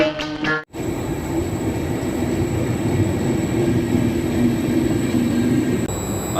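A train rumbles steadily at a railway station in Italy, a broad continuous roar with faint rail noise after a brief opening burst, loud and close with no voices.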